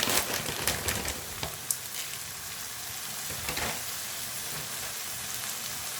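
Keema and green pea filling cooks in a pan, giving a steady, close sizzle and crackle with a few light scraping stirs near the start, and no talking.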